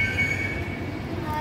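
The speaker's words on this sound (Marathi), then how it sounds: "हा ट्रेन आली आपली." An underground Mumbai metro train pulls into the station with a loud, continuous rumble and faint high wheel squeal, heard close and without talk.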